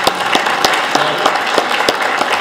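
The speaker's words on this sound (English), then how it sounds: "it is an opportunity for all of us to clap for that" Loud applause from the audience at a John Kasich campaign lunch event in South Carolina, with close, rhythmic clapping that stays dense for the whole stretch.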